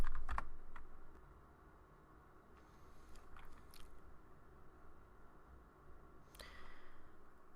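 A command typed on a computer keyboard while configuring a Cisco switch, with quick close keystrokes in short bursts and small pauses between them, and no talking.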